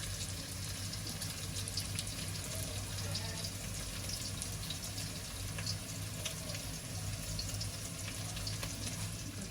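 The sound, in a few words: sautéing liver in a pan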